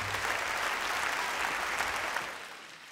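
An audience at a live concert claps together in thick, continuous applause that tapers off at the end.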